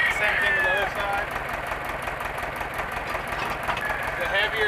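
A tractor engine idles with a steady low rhythmic throb, fairly close and continuous, on a farm while potatoes are being planted with a weighted disc implement.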